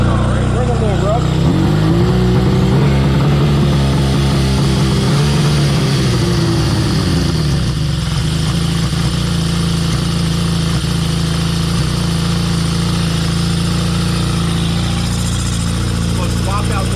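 A Honda CB550 motorcycle engine idles steadily and loud, running a little rough, with a low throbbing drone throughout; a brief rise in pitch early on settles back to an uneven idle, with a voice speaking over it.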